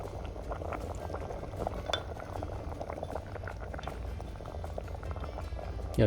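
A pot of curry bubbles at a steady boil, thick liquid popping and gurgling continuously, with a faint clink of metal near the end.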